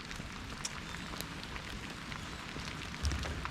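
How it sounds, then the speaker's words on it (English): Rain falling at the start of a Mount Fuji sea-to-summit course, a quiet, steady hiss of drops on surfaces that carries on without pause, with one slightly louder patter near the end. "the rain started to come down a bit heavier, which is a bit annoying"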